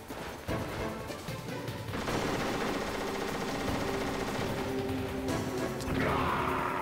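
Bursts of rapid gunfire and heavy crashes in the video game Metal Gear Solid, dense and continuous, with explosive impacts layered over a noisy background.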